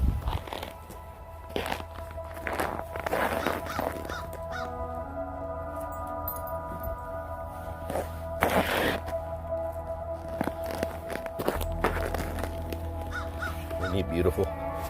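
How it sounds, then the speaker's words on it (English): A crow cawing outdoors above a dog pack feeding on a deer carcass, with repeated harsh caws spread irregularly over steady background noise. "Big old crow up there saying, hey, let them all in so I can come down and feast."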